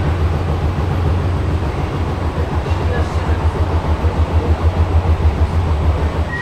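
Sealdah–Ranaghat AC local electric train running at about 90–95 km/h, a loud steady rumble of wheels and motors heard from inside the coach, with a rhythmic clatter pulsing through the second half.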